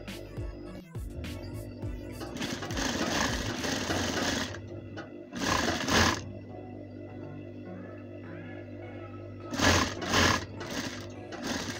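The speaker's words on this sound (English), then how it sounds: "I bring down the needle, use my hand wheel, and take up the bobbin thread" A domestic sewing machine, turned slowly by its hand wheel to pick up the bobbin thread, gives a steady mechanical whir with louder bursts of stitching near the start, middle and end, close and clear with no talk.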